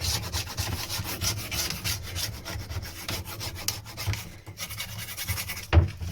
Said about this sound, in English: A lot less scraping to clean this one.